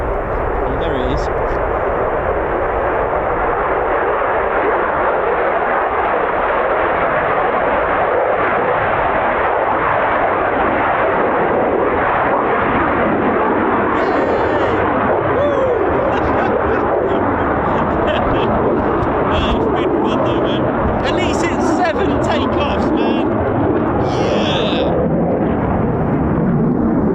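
F-35B stealth fighter jet taking off at an RAF airfield, a loud, sustained broadband jet roar that fills the whole stretch, with people talking over it.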